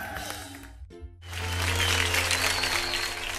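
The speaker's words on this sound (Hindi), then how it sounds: "सुगंधा के लिए जोरदार तालियां।" A studio audience on a Hindi comedy show claps loudly for Sugandha. A brief hush comes first, then a thick burst of applause that swells and holds.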